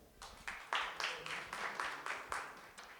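Audience at a venture capital panel event claps briefly, a small crowd's applause in irregular bursts lasting a few seconds, fairly faint and distant.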